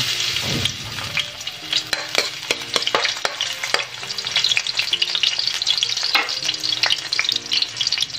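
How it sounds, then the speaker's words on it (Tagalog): Garlic sautés in cooking oil on a stovetop, a bright continuous sizzle broken by sharp scraping clinks of a utensil stirring against the pan. "At maglalagay na tayo ng mantika. Lagyan natin ang ating bawang."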